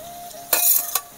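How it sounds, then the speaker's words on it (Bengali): Spiced eggplant sautéed in a pan in a village kitchen, heard as two short bursts of stirring scrape and soft sizzle over a quiet background. "বেগুনটা কষিয়ে নেব।"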